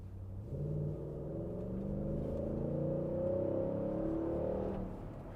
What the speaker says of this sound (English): this is what a Safari snorkel sounds like at full noise with the window